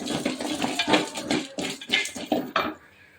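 Roasted gram and lentils stir-fried in a pan for coriander chutney, giving a run of clinking, scraping utensil-on-pan sounds with light crackle that fades out near the end.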